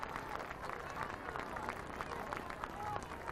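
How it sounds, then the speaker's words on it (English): A crowd at Griffith Field on the Bakersfield High campus applauds the girls' soccer teams after a 1998 divisional championship match. The clapping and cheering sound fairly distant and steady, with a voice faintly over it. "Applauding the girls for their efforts tonight."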